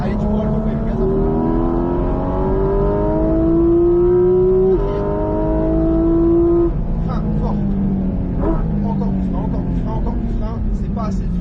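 A Porsche GT4 RS engine pulls hard at full throttle on the Mettet circuit, its rising harmonic tone climbing steadily through the gears with a brief break, loud and close, while an instructor talks over it.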